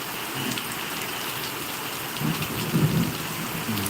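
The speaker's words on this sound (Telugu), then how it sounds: "వర్షం ఈ రేంజ్లో పడుతుంది" Heavy rain pours down steadily in Mulkanoor while low thunder rumbles through, swelling louder toward the end.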